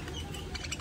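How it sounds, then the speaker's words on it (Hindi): Australian pet parrots give a few faint, quick chirps over a low background hum, briefly and at a distance. "ये है हमारे ऑस्ट्रेलियन तोते"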